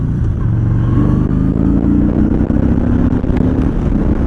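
A 2017 Yamaha Bolt R-Spec motorcycle engine pulls steadily under acceleration, a loud, continuous low rumble from close by with a faintly rising tone and no speech.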